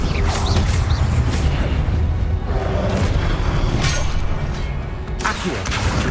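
A Confringo fire spell explodes repeatedly during Hogwarts Legacy combat, filling the scene with a loud, continuous rumble of booming blasts and crashing impacts, with a sharper burst near the end.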